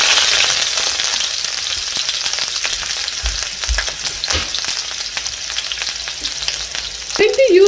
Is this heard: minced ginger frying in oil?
yes